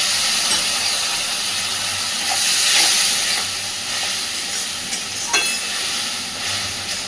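Spice masala for a pointed gourd (potol) curry frying with a splash of water in a pan over a medium gas flame, a steady close hiss and sizzle with a few faint scrapes of stirring and no voices.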